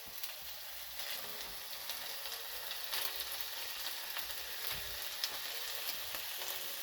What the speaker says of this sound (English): we're going to go ahead and put in the rice and the eggs